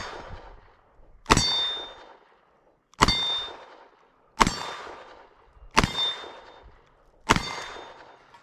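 Five sharp double-action revolver shots from a Smith & Wesson, evenly spaced about a second and a half apart, each a loud cracking report with a quick ringing decay.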